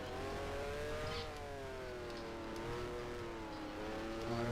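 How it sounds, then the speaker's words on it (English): An open-wheeled race car in the F1 Challenge game's 1973 season slides through a chicane, its engine holding a steady wavering whine that dips and rises as it revs, with a faint tire scrub and no voices. "car sliding a bit."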